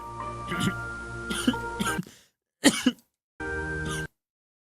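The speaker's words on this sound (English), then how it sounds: "I had to cough" Several close, harsh coughs and throat-clearing bursts in quick bursts, separated by short silences, from one person indoors.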